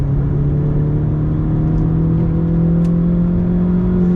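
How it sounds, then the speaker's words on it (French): A 2011 Opel Corsa GSI with a stage 1 tune accelerates, its engine droning loud and steady from inside the car as the pitch climbs slowly and the turbo spools, with no talk. "Le turbo il se charge fort."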